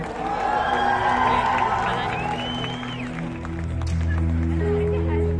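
A live concert crowd in Bangalore cheers and applauds loudly and steadily, with shouts rising above sustained clapping while music plays underneath throughout.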